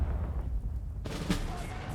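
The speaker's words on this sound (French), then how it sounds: "ça c'est le canon anti-char, ça" An anti-tank cannon firing in the World War II strategy game Sudden Strike 4: one sudden sharp gunshot-like blast halfway through, followed by echoing battle noise over a quiet rumbling background.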